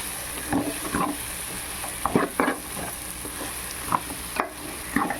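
Prawns cook in a pan for prawn biryani: a soft background sizzle broken by repeated clattering spatula scrapes and stirs that come in uneven bursts, close by.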